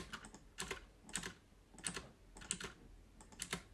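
Keys clacking on a computer keyboard, quiet and close, in short bursts of several strokes separated by brief pauses, with no voices.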